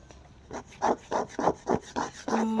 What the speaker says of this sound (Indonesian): sebuah sisir bisa digesekkan dari bawah ke atas atau begini, dan itu akan menimbulkan bunyi gesek